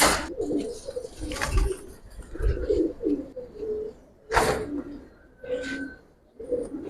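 Giribaz pigeons in a loft cooing repeatedly, soft throaty calls near and clear, with a few chirps and rustles around them.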